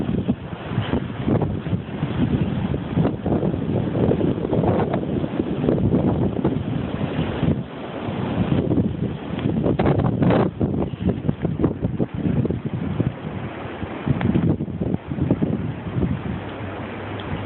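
Strong blizzard wind on a Chicago street buffets the microphone in loud, rushing gusts that swell and ease continuously, with no voices.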